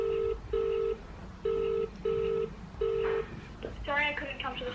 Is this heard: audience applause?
no